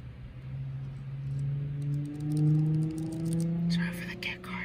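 A car passing outdoors behind a quiet indoor recording, a faint low hum that swells and pitches upward over a few seconds before fading, with soft whispered talk and light keyboard clicks at the end.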